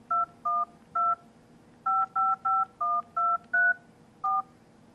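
Keypad tones from a Nokia 5800 XpressMusic phone as a number is dialed: eleven short, evenly spaced two-note beeps in a quick irregular run, clear and close with no voice.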